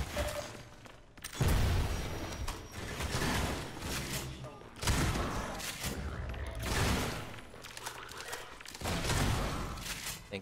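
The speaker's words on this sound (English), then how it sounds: "That's a grenade!" Grenade blasts and heavy combat in the Half-Life 2 Highway 17 chapter: repeated loud booming explosions with bursts of gunfire and rumbling, close and continuous, with a few shouted voices mixed in.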